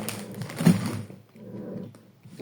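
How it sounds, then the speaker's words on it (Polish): A dog scuffles and whimpers close by, with soft bumps and rustling in short bursts separated by quieter pauses. "Jeżeli w tyle słyszycie hałas, to mój pies się bawi."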